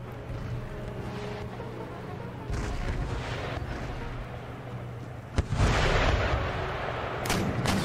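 Howitzer artillery in a battle in Empire: Total War booms repeatedly over a steady rumbling battlefield din, with several sharp reports standing out near the end.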